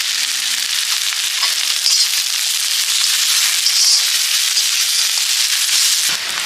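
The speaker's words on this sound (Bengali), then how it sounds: "আমাদের পেঁয়াজ আর লঙ্কার ভাজা ভাজা হয়ে গেছে" Chopped onions and green chillies frying in a hot pan, a loud continuous crackling sizzle that holds steady throughout with no voices.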